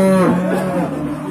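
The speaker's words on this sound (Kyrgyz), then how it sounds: "А бул сиздер көрүп турган саан уй." A dairy cow at a village livestock market in Kashkar gives a loud, close moo that slides downward in pitch, with market murmur faintly behind.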